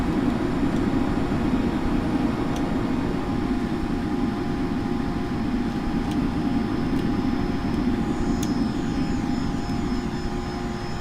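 A Cessna Citation CJ4 business jet in the Prepar3D flight simulator on a rolling takeoff, its engines giving a loud, steady, even roar with faint tonal whine on top, continuous for the whole stretch.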